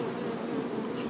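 Honey bees hum at an open spring beehive with a super full of honey, a close, dense and steady drone filling the whole short moment without voices.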